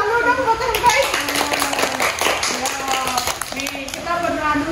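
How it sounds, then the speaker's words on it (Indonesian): Children and adults clap together in rhythm at a small thanksgiving celebration for completing the Qur'an, with busy overlapping taps close by and voices talking through it. "Ya, tepuk dulu dong buat Teh Hibah."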